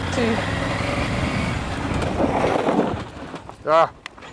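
A motorcycle engine idles and revs under people talking, then cuts out as the bike stalls after a hard stop with front and rear disc brakes, followed by a short, loud shout.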